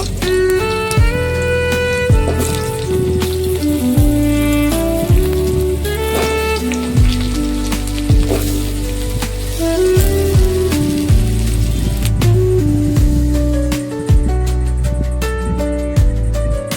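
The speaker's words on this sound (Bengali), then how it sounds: "আমি ওই তেলের মধ্যেই আবার আলু দিয়ে দেব।" Potatoes fry in hot oil with a continuous crackling sizzle, heard close and steady throughout alongside tonal background music.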